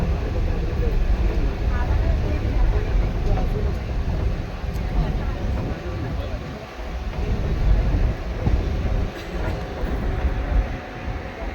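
Train at Jagpur railway station, a continuous loud rumble with rattling carriage noise throughout, steady and close, with people talking now and then.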